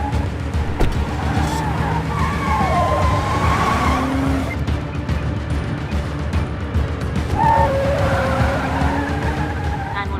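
Cars in a chase with an armed SUV in pursuit, engines roaring close and loud as tires squeal and skid in long drawn-out screeches, with heavy rumbling traffic noise throughout.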